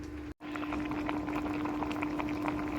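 Curry with lentil dumplings (bori) simmering in a pot, a steady close bubbling and gentle boil running throughout with a low constant hum underneath, after one brief dropout near the start.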